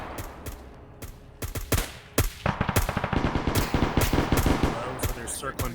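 Bursts of video game gunfire crackle in rapid volleys, sparse at first and then dense and rhythmic like machine-gun fire, loud and close.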